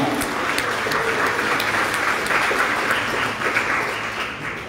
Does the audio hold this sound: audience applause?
yes